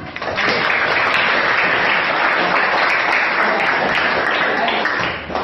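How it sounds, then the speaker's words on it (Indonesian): Sustained applause from a classroom of students, a dense steady wash of clapping hands lasting throughout at a loud, even level, honouring heroes. "Oke, tepuk tangan buat."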